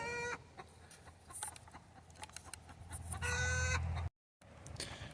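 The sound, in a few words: chickens clucking and squalling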